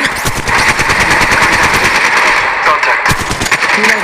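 Rapid automatic gunfire from Apex Legends rattles loud and close in fast repeating bursts, with brief gaps and clipped in-game voice callouts mixed in.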